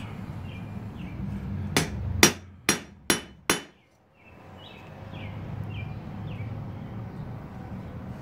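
Five sharp, ringing hammer blows on hot metal over an anvil in quick succession, smoothing hammer marks on a forged utility piece, then quiet with faint bird chirps and a low background hum.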